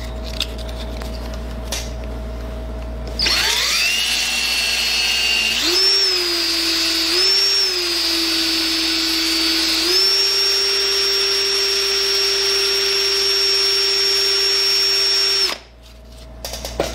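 A power drill spinning a wooden ring made from a skateboard spins up with a steady high whine, shifting pitch a few times as it runs for about twelve seconds before cutting off.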